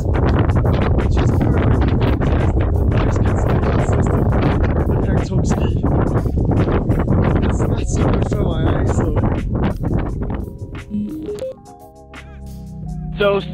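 Gusty wind buffeting a Cardo Packtalk Outdoor microphone on a glacier, a loud, ragged low roar with sharp bursts throughout that eases near the end, mixed with talking.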